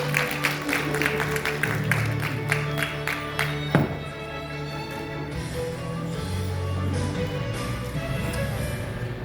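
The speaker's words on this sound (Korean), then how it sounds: "DMG 오케스트라의 축하 공연 큰 박수로 여러분들 맞이하겠습니다." An audience at a Korean political party launch event claps to welcome the DMG orchestra, with brisk clapping over sustained tones for about four seconds before giving way to orchestral music.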